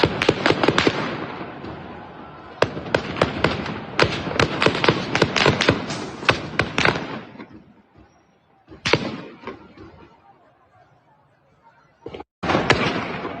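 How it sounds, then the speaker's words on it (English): Gunfire aimed at unarmed protesters in Iran comes as a long barrage of sharp, loud cracks in rapid clusters, thinning into scattered shots and silences before a final burst. "They just shoot at us, right? They shoot into us."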